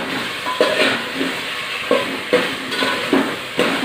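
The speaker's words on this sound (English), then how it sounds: "We will fry the potatoes for 2 to 3 minutes" Potatoes frying in a pan for prawn curry, giving a steady close sizzle with occasional stirring scrapes and clinks throughout, and no talking.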